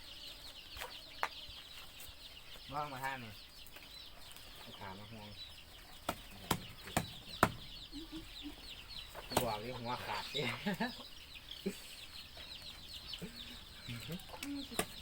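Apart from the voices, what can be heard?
chickens clucking in a coop during feeding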